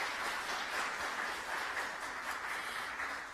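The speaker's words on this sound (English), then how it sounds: "let's give her another round of applause for breaking the ice and getting this going" Sustained audience applause at a startup pitch competition in Houston, a steady, fairly quiet wash of many hands clapping that holds evenly for the whole stretch with no talk over it.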